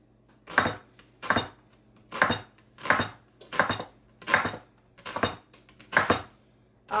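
A knife slicing onions thin on a cutting board, eight evenly spaced, crisp chopping knocks, close and clear with quiet between strokes.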